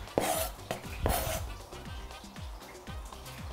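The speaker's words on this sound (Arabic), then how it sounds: "رح اقطع الفليفلات كمان بهالطريقه مواس رح اعملهم" Knife chopping bell peppers on a cutting board in a home kitchen, with a few sharp thuds early on followed by a steadier run of softer cuts, close and clear.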